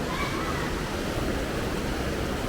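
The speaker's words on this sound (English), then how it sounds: "It's a waterfall." Waterfall at a hotel resort pool, a steady, dense rush of falling water filling the space at close range, unbroken throughout.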